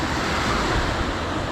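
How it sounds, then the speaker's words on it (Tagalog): Rough sea after a typhoon, surf crashing and rushing in a dense, continuous roar with wind buffeting the microphone, loud and close. "Dagat, medyo galing Bagyo kasi."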